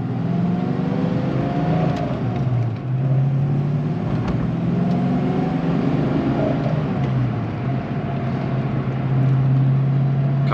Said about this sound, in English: you can hear the little bit of the roar of the Flowmaster exhaust